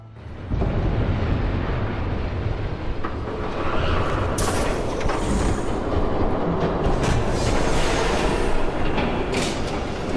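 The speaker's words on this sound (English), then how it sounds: "There's a train coming." Train approaching in Batman: The Telltale Series, a heavy rumbling roar that swells in quickly and holds loud, with rattling wheel and carriage clatter building over the steady low din.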